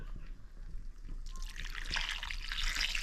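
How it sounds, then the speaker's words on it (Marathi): Hot water is poured into a crab curry cooking on a wood-fired stove, a soft trickle building into a steady, fairly quiet pour over a faint background murmur. "तर आता याच्यामध्ये आपण गरम पाणी टाकतोय"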